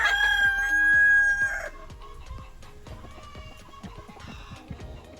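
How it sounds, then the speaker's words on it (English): A phone recording of chickens clucking plays at a campground as a rooster crows amid scattered tapping and rustling, mixed with faint background noise and no speech. "a recording of chooks clucking"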